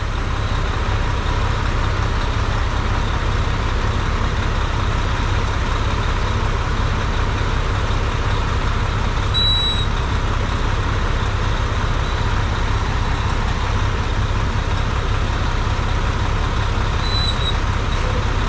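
A heavy truck loaded to 72,000 pounds idles in a ditch, giving a constant low rumbling drone, close and steady throughout, with a couple of brief high squeaks and no talking.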